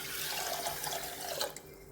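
Water splashes into a pressure cooker holding washed rice and green gram, a short, continuous gush of pouring liquid heard up close and alone.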